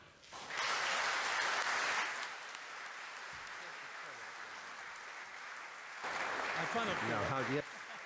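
A lecture audience applauds as a speaker is introduced, a loud burst of clapping that subsides under talking, then swells again alongside voices.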